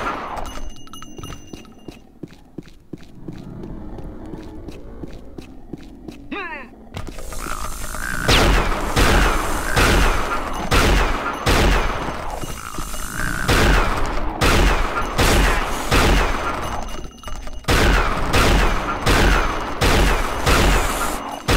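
Rapid gunfire in the Unreal Tournament mod Operation: Na Pali, a video game. A quiet, mechanical opening gives way to loud, dense bursts of repeated shots that carry on steadily to the end.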